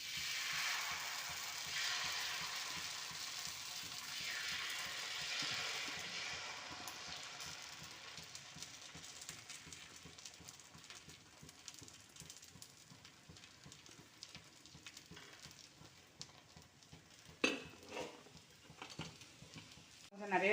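Thavala adai batter poured into a hot iron kadai sets off a loud, broad sizzle that gradually softens into a lower, steady crackling hiss, with a few sharper spurts near the end.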